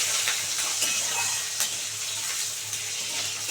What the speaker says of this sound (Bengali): এবারে সমস্ত মশলাগুলোর মধ্যে দিয়ে দিচ্ছি দিয়ে এটা ভালো করে এগুলো সমস্ত ভেজে নেব